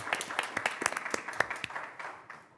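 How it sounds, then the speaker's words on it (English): A small crowd claps for a couple of seconds, the scattered hand claps fading toward the end. "that's worth a round of applause"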